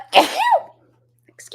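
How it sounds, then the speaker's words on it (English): A single close, loud human sneeze with a sharp burst and short trailing exhale, followed by a brief silence and a faint breath or sound at the end. "oh, I'm gonna sneeze."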